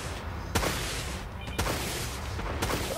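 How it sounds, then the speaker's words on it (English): Broadside ballistic cannons firing in the Dreadnought space combat game: three sharp, loud booming shots at roughly one-second intervals over a steady rumbling background. "Smash him with the broadside cannons."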